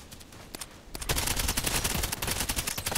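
Rapid gunfire in a video game is shot into the air, starting with a few isolated shots and then breaking into a loud, sustained burst of close automatic fire.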